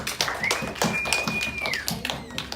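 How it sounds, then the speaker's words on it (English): Applause from a small classroom audience at a public speaking class, a steady patter of scattered hand claps with a thin whistle-like tone running through the middle. "let's give Sam and Tom a big round of applause"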